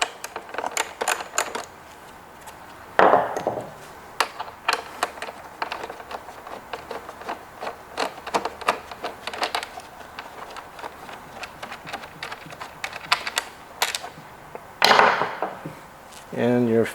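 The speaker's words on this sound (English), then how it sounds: "use your 5mm Allen tool to get this bolt off" Small clicks and taps as a 5mm Allen tool works a bolt loose on a Honda CBR600RR headlight assembly, scattered close-up ticks with a couple of louder knocks, no talking.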